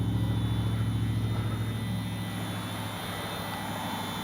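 A 64mm Arrows RC MiG-29 jet flies a go-around on its maiden flight, its steady whining drone holding level and then fading slightly as it passes.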